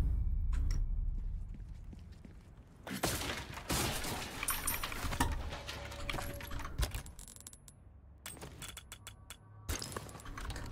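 Gunfire from Resident Evil 4 Remake, with repeated sharp shots and impacts in uneven bursts over game ambience, loud and dense at times with quieter gaps between volleys.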